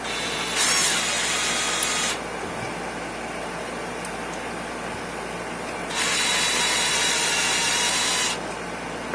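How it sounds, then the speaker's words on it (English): A power drill runs in two short bursts of about one and a half and two and a half seconds, backing screws out of a WE M4 gas blowback airsoft magazine, heard close and alone over quiet room noise. "Then I'm going to cheat it a little bit and back them out with the drill."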